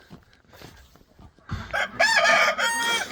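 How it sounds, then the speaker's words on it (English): Chickens in a barn: soft clucking and rustling, then a rooster bursts into a loud, close crow that carries on to the end. "we can let the birds out now"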